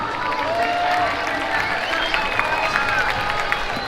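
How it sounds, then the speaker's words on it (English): A stadium crowd at Camp Nou cheers as the players come out for an FC Barcelona match, a broad, distant roar of voices with scattered applause and whistles, and a nearby voice talks over it. "People are starting to cheer down there."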